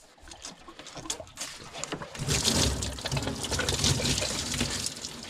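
Coolant from a 2016-2021 Jeep Grand Cherokee or Durango 3.6 draining during a thermostat replacement, splashing and pattering into a drain pan with a broad, steady gush that swells midway and continues to the end.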